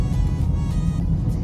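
Interior of a car on a bumpy road, a dense low rumble of engine and road noise with wind buffeting, steady and loud throughout.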